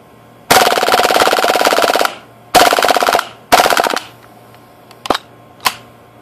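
KWA airsoft gun firing on fully automatic: a long burst of rapid shots close by, then two shorter bursts, followed by a few isolated clicks. No talking.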